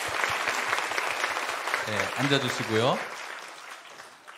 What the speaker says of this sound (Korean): 우리 박수 한번 해주시겠습니까?